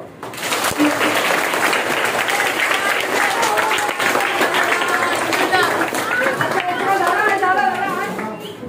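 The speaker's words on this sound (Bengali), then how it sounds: "জোরে জোরে হাততালি দাও" Workshop participants at a theatre and yoga session in a high school clap loudly and continuously, a dense burst of applause mixed with excited crowd chatter and voices.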